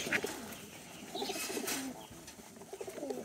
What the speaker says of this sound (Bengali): দেখেন আরো কিছু কবুতর আছে, আমরা সেইগুলো দেখবো